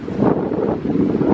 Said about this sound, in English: the wind's god awful